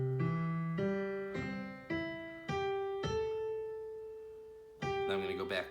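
Solo piano plays the opening phrase of a beginner piece, a handful of clear, evenly spaced notes with a low left-hand note held under them, one note sustained longer before a final chord, played alone.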